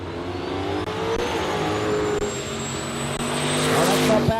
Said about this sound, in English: You can hear the turbocharged small block, whether it's an LS or a traditional Chevy.